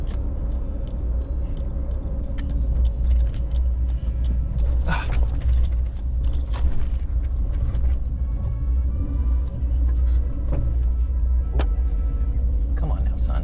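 A manual-transmission car climbs a driveway with a steady low engine rumble and drone, heard from inside the cabin, with faint knocks and clicks over it and people talking at times.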